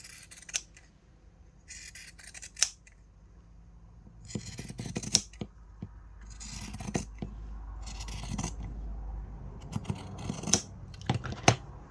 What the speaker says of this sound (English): we're going to get our pinking shears, and we're going to start on one of the short edges